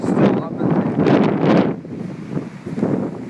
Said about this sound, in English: And it's windy.